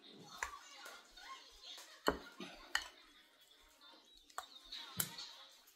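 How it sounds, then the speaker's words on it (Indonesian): A spoon scrapes and clinks against a pot of spicy chili soup, with several sharp metallic knocks amid soft stirring scrapes, close and fairly quiet, while faint voices murmur in the background. "Kita aduk-aduk lagi."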